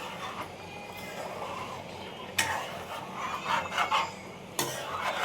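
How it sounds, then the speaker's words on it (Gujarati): A spoon stirs thickening gravy in a bowl, made as part of a Russian-style dhokla dish: a continuous rubbing, scraping texture with occasional sharp clinks of metal against the bowl, all under someone speaking Gujarati. "હલાવતા રહી એટલે એકદમ સરસ થોડુંક વધારે ઘાટો થઈ ગયો રસો"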